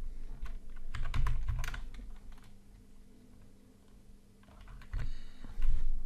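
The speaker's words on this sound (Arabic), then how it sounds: "بكتبها من على الكيبورد" Someone types on a computer keyboard during Rhinoceros 3D modeling work, with clustered bursts of crisp key clicks separated by a quiet pause, close to the microphone.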